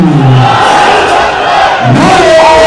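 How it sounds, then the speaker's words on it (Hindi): A crowd at the Wagah border parade roars and chants slogans in short, loud surging bursts, voices rising and falling together in a dense, close mass. "नारों की आवाज है, तालियों की गूंज है अवाम का शोर है"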